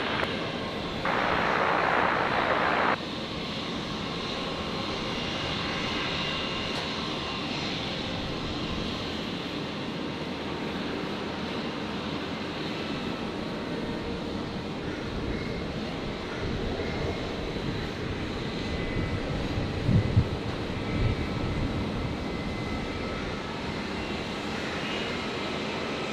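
Velocity airliner landing on runway 01 left at Brisbane International on a hot afternoon, a long steady distant jet engine rumble continuing evenly throughout, with a brief higher burst near the start and no talk.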